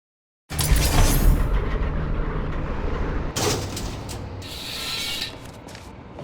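Elevator machinery in the video game Portal gives off a loud, continuous mechanical rumble with ratcheting and grinding textures. It shifts and briefly drops around the midpoint, then carries on alone with no voices.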